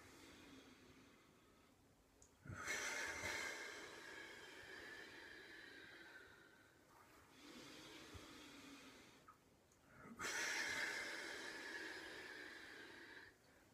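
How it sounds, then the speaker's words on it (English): Two strong, forceful exhales through the nose or mouth during a chi kung breathing exercise, each a long rushing breath, separated by quieter breathing, close and alone. "carry on the exhale all the way down"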